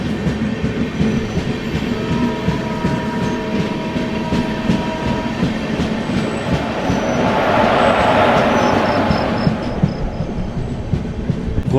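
The 22204 Duronto Express rolls along the tracks from Secunderabad to Visakhapatnam, overtaking the Guntur–Rayagada Express. A loud, steady rumble and clickety-clack carry through, with a faint wheel squeal near the end.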